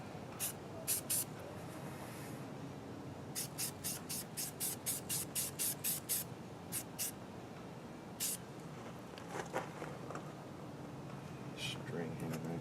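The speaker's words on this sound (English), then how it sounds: "There will be some overspray." Short bursts of aerosol spray paint hiss onto a Jeep tailgate, a dozen or so close, sharp blasts in an irregular rhythm, with quieter gaps between them.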